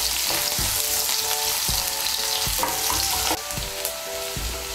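Chopped onion, one medium-sized, frying in hot oil for a Bengali fish curry, a dense continuous sizzle with occasional spatula scrapes and taps, loud and close, no talking.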